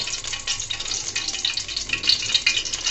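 Chopped garlic fries in a small amount of oil in a pot, a close, busy crackling sizzle that pulses unevenly as it is stirred, with no voices.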